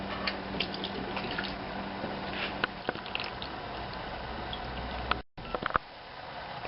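Hot engine oil draining from a small VW Golf during a service, a steady splashing, trickling stream into a pan that runs continuously, then briefly cuts out before resuming with a few drips and knocks, close by, without speech.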